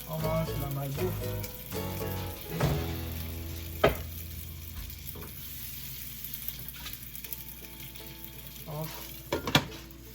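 A hamburger patty fries in a pan for fast food, a steady sizzle under background music and occasional clinks, with short bursts of louder crackle.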